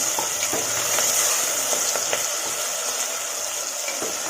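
Onion and tomato sauté with a little salt in a pan for a chicken gravy, making a steady close hissing sizzle with occasional soft ladle scrapes and taps.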